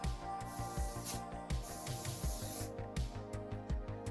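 Cleaner sprayed onto the sheet metal of a 1965 Ford Mustang during front-end teardown, short repeated hissing bursts close by over steady background hum and clatter.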